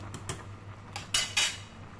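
A utensil knocks and clinks against a cooking pot while tinola fish soup is stirred, a few scattered scrapes and taps ending in two louder metallic strokes, close and without talk.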